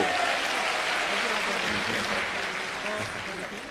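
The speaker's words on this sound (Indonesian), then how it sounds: "Tepuk tangan untuk Romo Koko." During a seminar on compassion, a gathered audience gives a sustained round of applause for Romo Koko, a priest. The clapping is steady and fairly loud, with voices talking over it throughout and fading slightly near the end.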